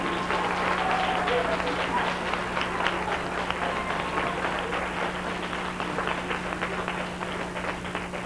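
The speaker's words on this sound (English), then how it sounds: "let's give them a big round of applause" A pageant audience applauds the contestants with sustained, dense clapping in a large hall, heard steadily and fairly loud, mixed with faint crowd noise and a background tone.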